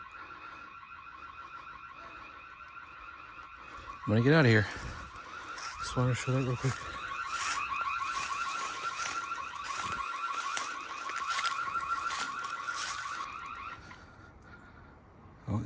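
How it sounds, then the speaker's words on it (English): A car-type alarm blares at abandoned 1800s stone castle powerhouse ruins, a loud warbling and pulsing siren cycling through its tones for most of the stretch before cutting off, with someone talking briefly over it. "there goes the alarm"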